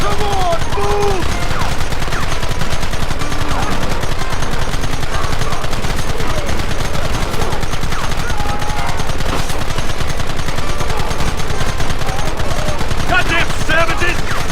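Dense, continuous rifle and machine-gun fire crackles without pause through a loud battle in Red Dead Redemption, with shouted voices mixed into the din.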